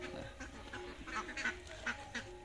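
A flock of farmed ducks around 80 days old quacks in quick, overlapping, nasal bursts close by, a busy chorus with no voices over it.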